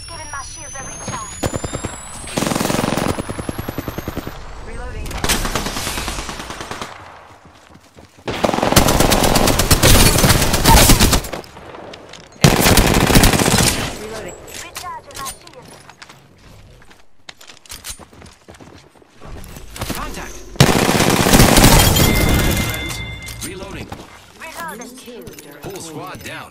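Bursts of rapid automatic gunfire from an Apex Legends firefight, several loud volleys separated by quieter gaps, with a voice talking between and over the shooting.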